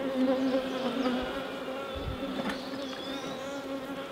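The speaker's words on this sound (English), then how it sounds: "A lot of bees there." Honeybees in a full hive make a dense, close, steady hum that holds without a break, with a few faint knocks mixed in.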